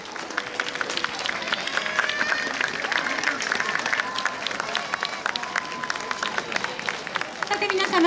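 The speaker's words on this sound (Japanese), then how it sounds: "皆様踊り子の皆さん鳴り物の皆様に大きな大きな拍手をお送りください" Audience applause and crowd noise for Awa Odori dancers and musicians at a summer festival finale, steady clapping with a busy crowd murmur throughout.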